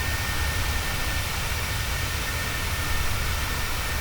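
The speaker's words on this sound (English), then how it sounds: "I actually hear our engines throttling up as the EPR changed with a colder air" Jet engines in Microsoft Flight Simulator throttle up during a storm approach, giving a steady, even roar with a deep rumble and broad hiss that holds constant throughout.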